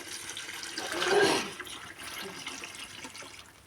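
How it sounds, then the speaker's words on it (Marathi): A brief splash of hot water poured into hot oil tempering for dal, swelling for about a second then fading into a low bubbling hiss. "थोडंसं गरम पाणी केलेलंच त्याला मग असं फोडणीमध्ये टाकायचं"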